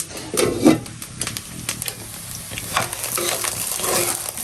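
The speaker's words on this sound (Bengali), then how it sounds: "খিচুড়ি সেটাই গরম দিচ্ছি যে একটু জানা দিই" Khichuri being reheated in a pan for a pre-dawn sehri meal, a steady sizzle with scraping stir strokes and occasional clinks of the spoon, close and fairly loud.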